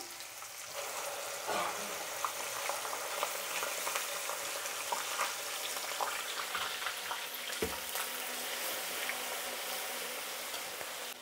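Ground tomato goes into a hot pan of fried mustard seeds and sizzles steadily, with a constant crackling fry and occasional stirring clinks close by.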